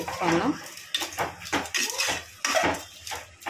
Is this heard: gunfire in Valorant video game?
no